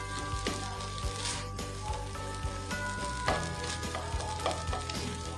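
Noodle samosa filling is stirred in a hot pan, with a continuous sizzle and frequent clinks and scrapes of the spoon against the pan, close and fairly loud.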